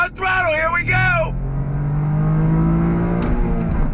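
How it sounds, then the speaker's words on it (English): A 2023 Toyota GR Corolla pulls hard in second gear on throttle, engine note climbing steadily while someone talks over it at the start. "Second gear, on throttle, here we go."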